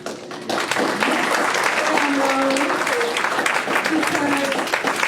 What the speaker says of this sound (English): we have to give a huge round of applause to this woman